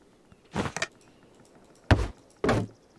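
Hammer strikes while building in the video game Aloft: three separate impact bursts, the first a quick double knock and the later two fuller thuds, spaced over a few seconds with quiet between them and no talk.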